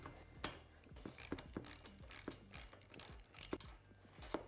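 A 15mm socket ratchet loosening A-pillar bolts on a Polaris RZR XP 4 1000 UTV, with quick bursts of clicking pawl ratchets and metallic clanks, close and fairly quiet.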